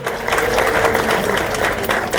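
Guests at a traditional wedding ceremony applaud in a dense, sustained burst of clapping that fills the room, with crowd noise mixed in.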